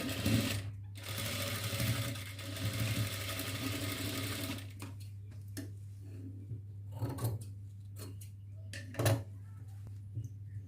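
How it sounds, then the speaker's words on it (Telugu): A sewing machine runs steadily up close, lock-stitching the lining of a double-lined frock in one long whirring burst, then stops and gives way to short bursts of stitching with brief pauses and light handling noises. "ఈ రెండు కలుపుకొని పైనుంచి కింద వరకు లాక్ స్టిచ్ వేసుకోవాలండి"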